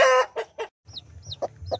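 A mother hen gives several low, throaty clucks close by, followed by her small chicks' thin, high peeps that come in short bursts among the soft clucking.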